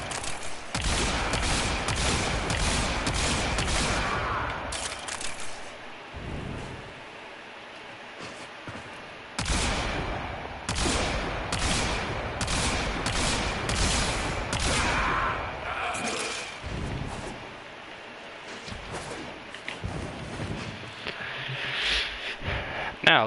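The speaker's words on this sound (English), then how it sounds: "The Tomb Finger allows you to shoot one projectile, but the projectile explodes." Destiny gameplay with repeated loud bursts of gunfire and booming shots from a projectile weapon whose rounds explode, firing in dense clusters across the stretch with brief lulls between volleys.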